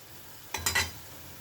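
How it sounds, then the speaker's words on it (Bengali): Lentil fritters (bora) frying in hot oil: three quick, close bursts of sizzling crackle rise over a quiet kitchen background, then fade back to stillness. "তো বড়াগুলো ভাজা হোক।"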